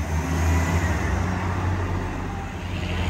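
Straddle carriers moving containers around the yard of an inland port, a steady, loud, low engine rumble with a continuous broadband roar that stays even throughout.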